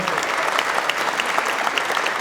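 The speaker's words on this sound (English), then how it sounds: "Dave and Ann Castro, give them a round of applause." Dense, steady applause from a crowd at a school spring band concert, many hands clapping at once with no pauses for the whole stretch.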